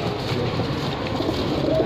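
Low, continuous cooing of Rampuri pigeons sits under steady background noise, with no clear voices.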